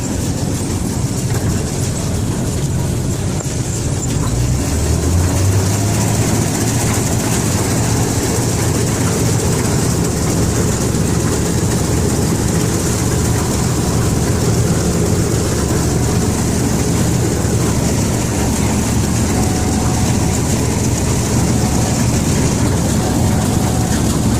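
Grain threshing machine spinning up in a field during harvest, a loud, dense mechanical roar with a rising whine a few seconds in that then holds steady and continuous, with no voices.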